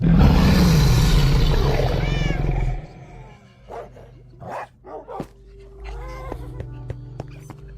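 A deep growling roar from a Minecraft dragon head rumbles at the start, then fades into quieter clicks, thumps and scattered game sound effects.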